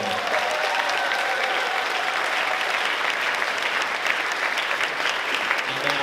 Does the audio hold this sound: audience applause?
yes